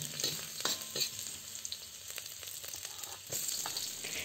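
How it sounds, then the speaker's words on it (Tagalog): Sliced garlic sizzling and frying in hot oil over medium heat, a steady crackling hiss with occasional stirring clinks, close and fairly quiet, with no talking. "kapag mainit na ang mantika, ilagay na natin ang hiniwang bawang"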